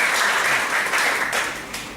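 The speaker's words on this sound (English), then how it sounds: "I would like to request everyone to give them both a big round of applause" Warm, continuous applause from a club audience at a Toastmasters meeting, moderately loud and even, gradually tapering at the end with no one speaking.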